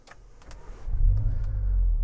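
A Cupra Ateca's engine is started with a push button inside the car, a faint click and whirr first, then the engine catches and settles into a steady low idle rumble that holds to the end.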